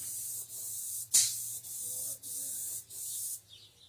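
An airbrush sprays oil paint onto a landscape background, giving repeated short bursts of hiss, about six separated by brief pauses, close and fairly quiet with no talking.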